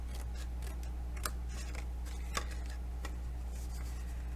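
Scissors snip along a score line in a steady series of soft, crisp cuts over a constant low hum, with a couple of slightly sharper clicks.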